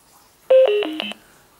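A Savox Promate BTR-155 Bluetooth speaker microphone plays its connection tone, a short sequence of four loud, clean electronic beeps stepping downward in pitch, heard alone against a quiet background.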